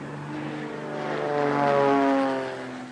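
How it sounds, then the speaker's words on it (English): A propeller-driven tail-dragger airplane coming in to land, its steady droning engine swelling louder to a peak and then easing off, with no voices. "When touching down in my tail dragger, I want to make sure that all three wheels touch down at the same time."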